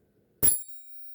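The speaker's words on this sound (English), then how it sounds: "we'll be using the heart chakra tuning fork" A single bright metallic strike on a heart chakra tuning fork followed by a thin high ringing tone that fades quickly into silence.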